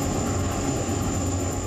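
A Tejas light combat aircraft flying at the Dubai Air Show produces a steady, loud, continuous engine roar that holds at an even level with no talking.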